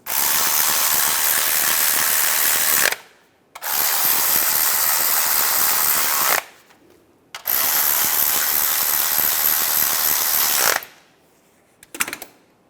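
Ratchet wrench tightening clutch slave cylinder bolts on a Chevrolet Cobalt, three long bursts of rapid, loud close-up clicking separated by short pauses, then a couple of brief clicks at the end.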